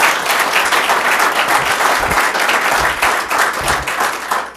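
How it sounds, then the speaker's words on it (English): An audience at a real estate summit breaks into a loud, dense round of clapping that holds steady for a few seconds before tapering off. "deserve a round of applause"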